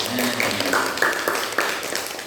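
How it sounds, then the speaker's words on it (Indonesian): Students in a classroom clap together in brief applause, a fairly quiet, soft patter of hands that rises in a few small bursts and fades out over a couple of seconds. "Tepuk tangan untuk semuanya"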